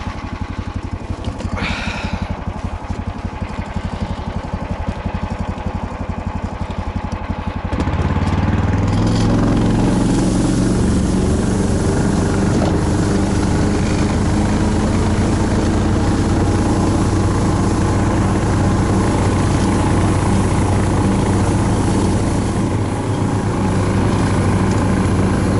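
A vehicle engine drones steadily on a snowy frozen lake during winter pike fishing. A rough idle swells to a louder, fuller roar as it pulls away, then holds as a continuous close rumble with no talk.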